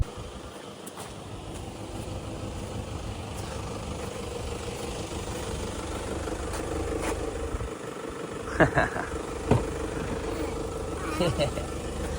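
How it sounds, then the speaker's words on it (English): A tractor's steady low engine idle rumbles on throughout, with a few brief sharper sounds standing out near the end. "Parked up the tractor. There it is."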